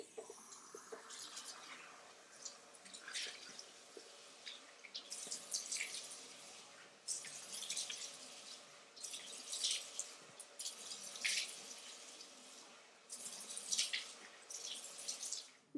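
Water running from a sink tap while a face is gently rinsed, a steady soft hiss broken by repeated brighter splashing bursts as hands scoop and splash, fairly quiet and close.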